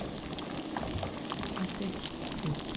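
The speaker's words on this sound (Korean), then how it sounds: "기름을 싹 둘러요. 그런 다음에 노릇노릇하게 구워주면 돼요." Cabbage pancake fries in oil in a pan with a steady, busy sizzle and crackle, moderately quiet and constant throughout.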